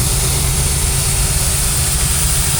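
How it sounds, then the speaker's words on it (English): Steam traction engine running at a spring fair, a steady loud low rumble with a constant hum and no breaks across the whole stretch. "That's one called Prince, and it's another traction engine."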